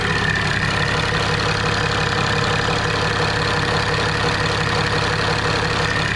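Diesel engine idling right after its injectors were cleaned during a fuel filter change, a loud, steady close-up rumble with a faint rhythmic knock that runs unbroken throughout and has no voices.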